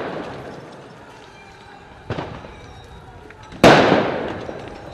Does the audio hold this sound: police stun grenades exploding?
yes